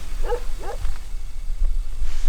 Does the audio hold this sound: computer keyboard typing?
no